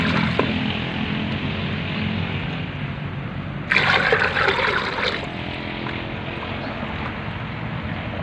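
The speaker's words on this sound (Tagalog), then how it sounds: "Lalagyan natin ng 3 litro ng tubig." Three litres of water poured into a fertilizer mixture for a bougainvillea, making a steady rushing, splashing stream that surges louder for a moment partway through.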